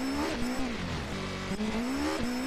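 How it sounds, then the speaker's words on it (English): A loud car engine in a racing video game, a harsh droning roar that rises and dips in pitch as it revs, with brief tire squeal and no talking. "Oh, that is a loud car."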